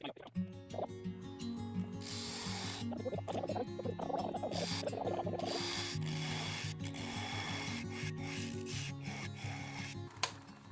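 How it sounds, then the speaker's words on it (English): A bowl gouge slices wood from a small natural-edge burl bowl spinning on a lathe, giving a sustained scraping, rasping cut over the lathe's hum, close and fairly steady, with a sharp knock near the end. "I'm going to take my bow gouge, and I'm actually going to slice this off"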